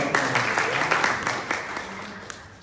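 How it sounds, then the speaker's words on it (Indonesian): A church congregation claps in a brief burst of applause, moderately loud and fading toward the end. "Tepuk tangan buat Dio."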